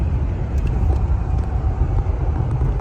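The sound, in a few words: 1972 Ford Thunderbird accelerating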